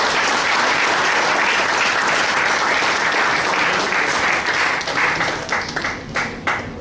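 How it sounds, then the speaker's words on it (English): An audience in a room at a community event with participating NGOs gives a loud, sustained round of applause that thins and fades into scattered claps near the end. "So a round of applause to all of you."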